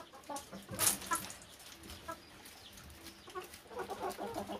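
Farmyard chickens being fed corn give soft, scattered clucks close by, with one sharper squawk early on and light rustling in between.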